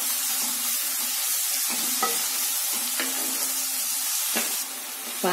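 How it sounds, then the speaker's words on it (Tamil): Onions and tomatoes sauté in a pan for Chettinad chickpea kulambu, a steady close sizzle broken by several short scraping stirs of a spoon against the pan, with no talking. "இப்ப தக்காளி நல்லா சாஃப்ட் ஆகிற அளவுக்கு வதக்கிடலாம்."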